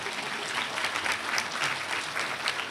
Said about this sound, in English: I think a round of applause, they turned out pretty okay, right?